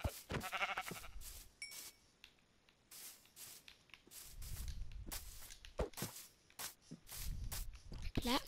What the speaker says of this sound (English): I'll kill some sheep anyway.